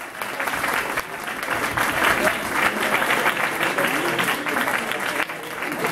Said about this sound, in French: Si vous êtes content de lui, ben, applaudissez-le.